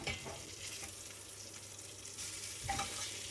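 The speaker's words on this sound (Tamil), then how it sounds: "இதில் வர எண்ணெய் தான் இப்படி பொரிஞ்சு வருது" Sausage fries in its own rendered fat in a pan, giving a soft, steady sizzle with light crackles and a louder spatter near the end.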